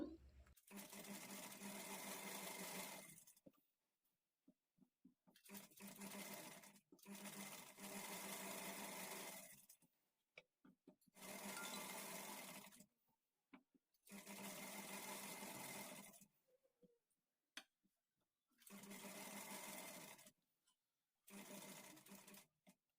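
A sewing machine stitches along the edge of a saree fall in several long bursts, separated by short pauses.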